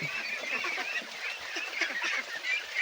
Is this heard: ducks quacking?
yes